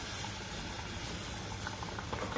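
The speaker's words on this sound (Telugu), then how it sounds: "ఇప్పుడు చింతపండు పులుసు కూడా వేసేసుకుంటున్నానండి." Tamarind extract pours into a simmering Telugu-style fish curry, a steady close bubbling and liquid rush that holds evenly throughout.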